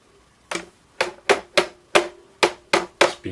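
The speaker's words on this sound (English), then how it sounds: "I just use my screwdriver just to tap it into place" A screwdriver taps a GameCube shell part into place, eight sharp, evenly spaced knocks at close range, each clicking hard plastic and fading quickly, with no talking.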